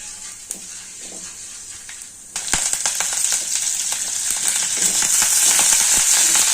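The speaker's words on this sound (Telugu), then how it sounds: "మిరపకాయలు నూనెలో గోలించుకొని మిక్సీ కట్టేసుకుంటాం" Oil sizzles and crackles steadily as red chilies, chana dal and urad dal are added to a hot pan, the frying growing louder and denser after a moment, with light stirring clicks.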